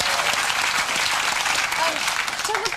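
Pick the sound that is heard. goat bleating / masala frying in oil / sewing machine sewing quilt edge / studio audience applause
studio audience applause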